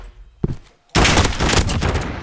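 Loud burst of gunfire fills the second half of a Gulag video game fight, following a brief sharp shot and a quiet gap, the rapid shots blurring together into a dense, continuous volley.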